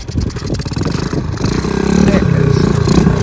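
The engine of a 1969 Honda CT90 Trail motorcycle, running again after sitting for ten years, chugs with a steady, rapid single-cylinder putter that grows louder and fuller as it settles into a strong, even beat close by.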